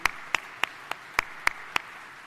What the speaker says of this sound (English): Let's give our police department a round of applause.